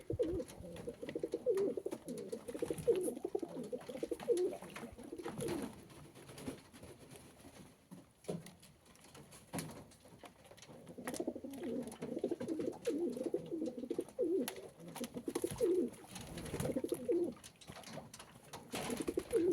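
Racing pigeons coo in soft, repeated throaty bursts, rising and falling in waves with brief pauses, close and fairly quiet.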